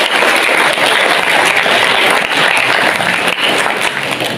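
Loud, continuous applause from an audience at a school award ceremony in Mojokerto, dense and sustained throughout with no talk over it.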